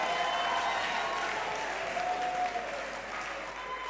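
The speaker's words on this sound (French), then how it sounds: "On les applaudit encore très fort, s'il vous plaît." An audience at a talent show semi-final applauds in a steady, full wash of clapping that fades slightly toward the end, with faint voices underneath.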